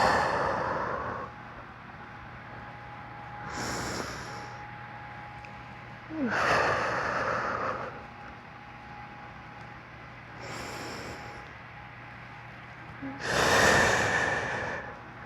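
Deep, audible breaths during a warrior 2 yoga flow: several long, rhythmic inhales and exhales spaced a few seconds apart, close and fairly loud, with no talking.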